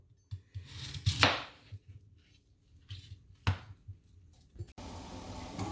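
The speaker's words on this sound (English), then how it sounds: "I'm going to cut them into quarters." A knife cuts white radish into quarters on a board, with a few sharp chops and scattered knocks, followed by a steady background hiss.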